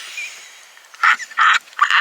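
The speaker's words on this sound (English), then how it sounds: "My dog is annoyed." A dog makes annoyed noises: a few short, grumbling bursts close by, broken by brief pauses.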